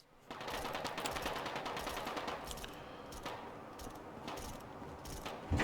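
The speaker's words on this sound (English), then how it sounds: "So we hear gunfighting in the background." Rapid bursts of gunfire in the video game Fallout: London crackle continuously, dense and sustained like a distant firefight, with sharper shots popping out near the end.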